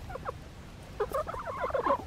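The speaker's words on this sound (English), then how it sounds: "Alright, so we got the chickies here." Backyard chickens clucking and gobbling in a busy flock, several overlapping bird calls close by over faint outdoor background, with no talking.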